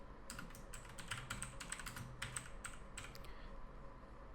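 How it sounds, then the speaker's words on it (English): Computer keyboard typing text in After Effects, a quick string of light clicking keystrokes in short bursts over a faint steady room hum, close and quiet. "let's type in a text"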